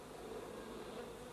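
A swarm of cartoon bees buzzes steadily and densely, a continuous droning hum with no talk over it.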